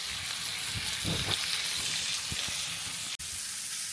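Bacon and chicken breast frying in a long-unused pan, a steady close hiss of sizzling fat with a few soft scraping taps, alone without talk.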